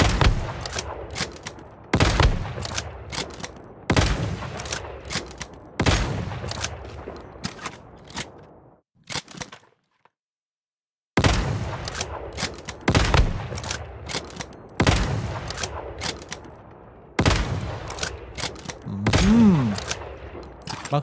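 Sniper rifle shots ring out at a boss in the survival shooter Once Human: loud, sharp single cracks at regular intervals, each trailing a short echoing decay, with a brief silent pause in the middle.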